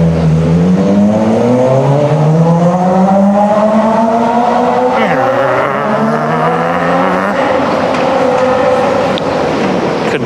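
A car engine revs up loudly, its pitch climbing through several gear changes over about ten seconds, close and continuous.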